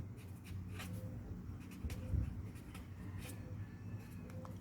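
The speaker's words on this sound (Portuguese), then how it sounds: "eu posso escrever aqui" Marker or chalk strokes on a classroom board during a lesson on functions, a faint steady scratching with a few firmer strokes near the middle, set against a low background hum.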